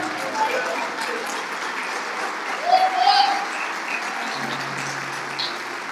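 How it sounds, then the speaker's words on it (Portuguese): A church congregation applauding during a worship service, a sustained wash of clapping from many hands that swells briefly midway and carries on steadily, with no voices on top. "se tu crê, aplauda ao Senhor."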